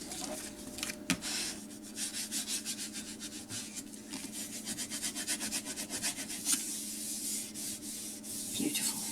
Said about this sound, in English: let's get some burnishing happening to spread that glue around